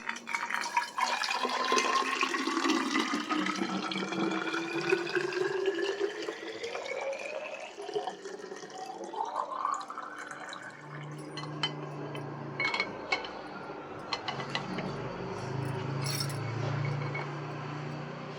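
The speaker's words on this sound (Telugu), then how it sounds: "ఇప్పుడు ఇంకా నేను పిల్లల వాటర్ బాటిల్స్ అయితే నింపుతున్నానండి" Tap water runs into children's water bottles in a home kitchen, a steady close stream whose pitch rises as each bottle fills, then shifts to splashing and drips near the end.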